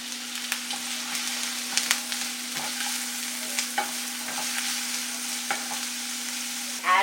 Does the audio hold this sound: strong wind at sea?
no